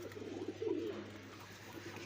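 A high flyer pigeon coos in a low, rolling burst near the middle, standing out over a steady low hum and faint background noise.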